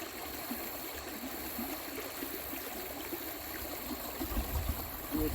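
Foamy stream water flows steadily in a broad, even rush, a constant wash of moving water that holds at a moderate level with slight swells near the end, at a riverside during salmon season.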